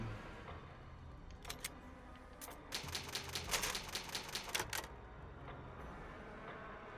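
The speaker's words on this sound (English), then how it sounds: "It's an old typewriter. You can save your progress." Old typewriter save sound from the Resident Evil remake video game, a quick burst of crisp mechanical key strikes and clacks in the middle, quiet before and after.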